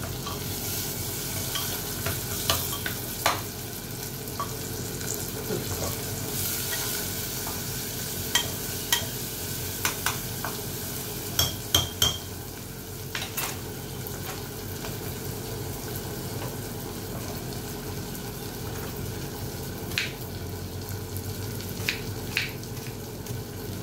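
Four chopped onions frying in oil for mutton curry, a loud continuous sizzle close by with scattered clinks and scrapes of a stirring spoon throughout.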